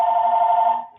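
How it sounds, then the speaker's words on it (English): A home telephone rings in one continuous electronic tone, loud and close, which stops abruptly just before the end of the second. "And that's my phone at home."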